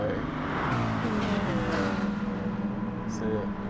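Race car engines from GT Sport, a Dodge Viper V10 alongside a Subaru with a four-cylinder boxer, drone side by side in a steady, sustained engine tone during a manufacturers race, with a brief higher whine near the end.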